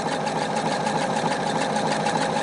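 A sewing machine runs steadily, zigzag stitching sideways over the edge of a patch on a trouser leg, its fast motor whir and needle chatter continuous and close for the whole stretch.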